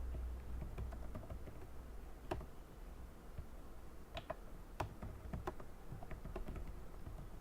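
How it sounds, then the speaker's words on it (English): Faint, close typing on a computer keyboard during a coding session, scattered individual key clicks in uneven bursts over low background hum, with no talking. "So you see what I'm typing."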